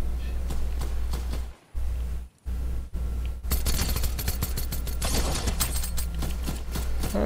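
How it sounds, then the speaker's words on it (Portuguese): Fortnite video game gunfire: dense rapid bursts of automatic weapon fire, briefly broken by short gaps, then a sustained loud volley of shots through the second half. "Tem tiroteio aqui, velho."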